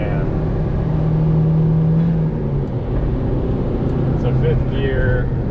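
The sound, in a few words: 1994 Mitsubishi Bravo GT Turbo 4WD van engine revving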